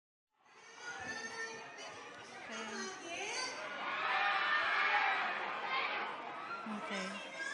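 A crowd of Cebuano fans at a stage event cheering and screaming, building from scattered shrieks and chatter into a loud, sustained roar of high-pitched voices that stays heavy through to the end.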